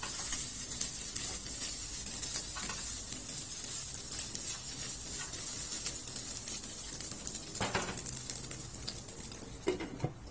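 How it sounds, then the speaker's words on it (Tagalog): Ground pork for sisig sizzles in a hot pan while it is stirred, a steady close hiss of frying that runs throughout with a few faint scrapes from the utensil. "Make sure na palagi lang natin tong haluin para pantay ang pagkakaluto ng ating karne."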